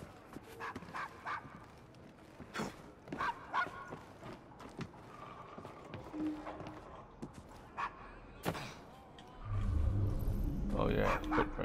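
A puppy in the Assassin's Creed Syndicate video game barks and whimpers in scattered bursts over game ambience, with hoof clops and a heavier rumble toward the end.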